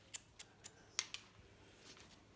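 Scissors snip through hair during a one-length haircut, five crisp close cuts in quick succession over a quiet room, then near silence.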